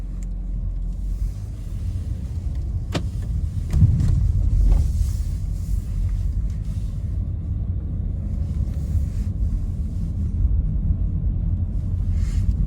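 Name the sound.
Renault Captur car driving off, EDC gearbox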